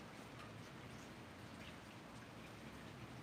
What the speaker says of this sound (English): I know the rain is nice.